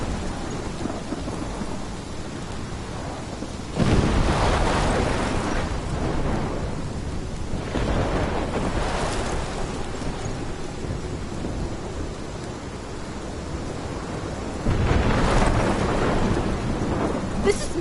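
A thunderstorm in Life is Strange, with heavy rain pouring steadily and three loud rolling thunder bursts breaking through, each swelling and fading over several seconds, with no voices.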